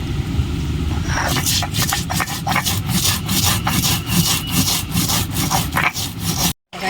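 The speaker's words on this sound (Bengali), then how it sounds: "ভেজে রাখা মশলাটা বেটে নেব।" Fried spices are ground into a paste with steady, rhythmic rubbing and scraping strokes, loud and close, for about six seconds before stopping abruptly.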